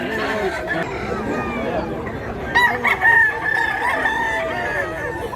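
A gamecock crows with a long cock-a-doodle-doo and clucks close by, with people chatting and other background activity underneath.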